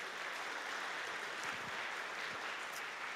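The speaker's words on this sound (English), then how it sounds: "Can we give these guys a massive round of applause?" Steady applause, fairly soft and distant, fills the whole moment with a dense, even clatter of many hands clapping.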